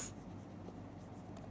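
A lecturer writes on a board during a linguistics class, giving a steady, soft scratching and tapping texture with a faint noisy background and no talking.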